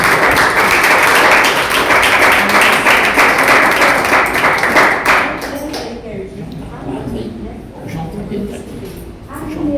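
A church congregation claps in praise with dense, rhythmic group clapping, loud and sustained for several seconds before fading into scattered claps and quieter murmuring.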